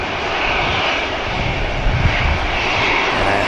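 An EasyJet airliner's engines roar loudly and steadily at Manchester Airport near an active runway, a continuous broad jet rumble with no talk.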